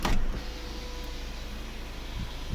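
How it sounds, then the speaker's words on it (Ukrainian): The panoramic sunroof motor of a 2013 BMW X3 F25 28i xDrive hums steadily and quietly as the roof opens, with a brief click at the start and no talk. "працює, відкривається панорама"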